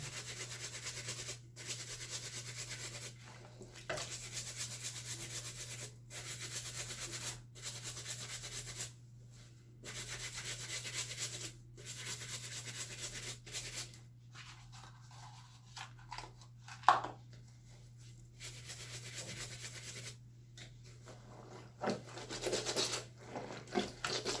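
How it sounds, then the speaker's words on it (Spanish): Small brush scrubbing period-stained underwear fabric, repeated bursts of rubbing strokes separated by short pauses, close and steady over a constant low hum, with no voices. "puede coger un cepillo y darle el cepillito al pasito para que no se rompa"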